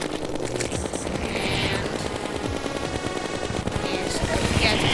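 Rapid automatic gunfire from Ichor bullets in Terraria during a Duke Fishron boss fight, a dense continuous rattle of shots layered with game effects and sustained for the whole stretch.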